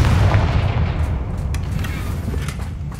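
The Confringo fire blast spell in Hogwarts Legacy, a booming explosive burst followed by a rumbling, decaying blast that stays loud close up for about three seconds.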